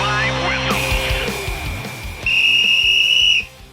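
A referee-style whistle sounds on a football podcast, held in long steady blasts. A sustained tone leads into a louder, piercing stretch near the end, and voices carry on around it.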